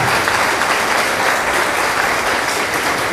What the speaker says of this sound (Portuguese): Inicialmente, uma salva de palmas ao professor Scalise.